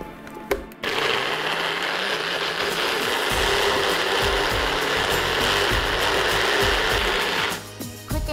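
A kitchen blender or grinder gives a quick whiz to a food mixture, starting abruptly and running loud and steady for about seven seconds before cutting off, close by with no talk.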